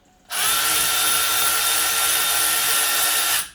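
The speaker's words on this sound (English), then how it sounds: "Make sure your wrench is set, righty tighty, lefty loosey always." A power wrench loosens a front brake caliper bolt on a 2008–14 Dodge Avenger 2.4L, giving one loud, close, continuous high whir that runs for about three seconds and then stops, with no talk.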